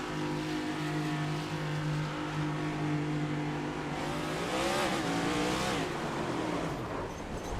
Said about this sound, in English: as the revs kicked up, the rear tires lit up